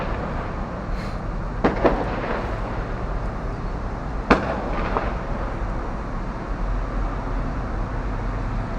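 Fireworks sound effect: a steady roar of distant crackle and rumble, with a few sharper pops and one brief, louder bang standing out.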